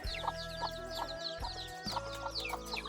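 Chickens on a rural Thai farm, with repeated short clucks and squawks in quick bursts close by, over a steady low background hum and scattered birdsong; no talk.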